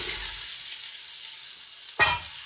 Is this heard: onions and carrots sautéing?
yes